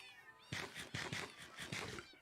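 Kittens in Minecraft mew in a quick run of about six or seven short, bright, close meows, evenly spaced and alone.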